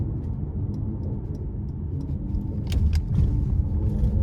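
Inside a 2023 Mercedes-Benz C43 AMG coupe, the 3.0-litre twin-turbo engine hums steadily as a low rumble, then swells louder as throttle is applied near the end, with a few light clicks in the cabin.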